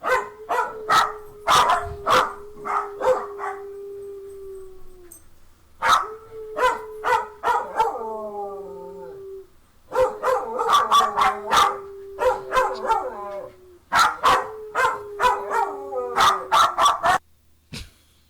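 A dog named as a good howler gives long sustained howls in several drawn-out bouts, close and loud, punctuated by sharp barks and yips, with people talking and laughing over and between them.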